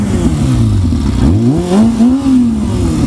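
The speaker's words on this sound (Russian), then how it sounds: "на морозе обороты набирает он" A motorcycle engine with modified carburetors revs in freezing cold, running loud and close with rising and falling pitch sweeps as the throttle opens and eases off.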